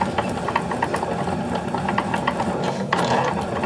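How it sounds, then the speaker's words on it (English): A Cricut cutting machine draws an embroidery design onto fabric clamped on its mat, giving a steady mechanical whir with quick ratcheting clicks and small motor shifts as the pen carriage moves, close and continuous with no talk. "just load your mat into your machine and press the go button to draw the design"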